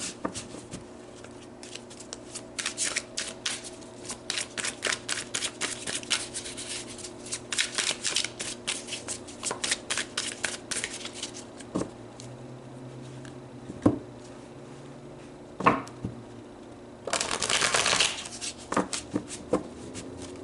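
Tarot cards being shuffled in repeated bursts of crisp riffling and flicking, close and fairly soft, with a louder dense riffle near the end and no talking.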